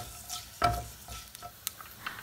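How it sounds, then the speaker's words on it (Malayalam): Mustard seeds and broken dried chillies hit hot coconut oil in a pan, giving a brief burst of sizzling with a sharp clink and a few scattered pops and crackles. "വെളിച്ചെണ്ണ ചൂടാകുമ്പോൾ അതിലേക്ക് കടുകും പൊട്ടിച്ച ഉണക്കമുളകും ഇട്ട് കൊടുക്കാം."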